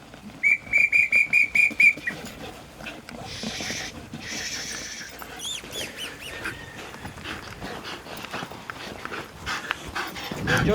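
Greyhound racing dogs breathing hard after a gallop, with a burst of loud, rhythmic panting or barking near the start, then steadier breathing and movement at moderate level.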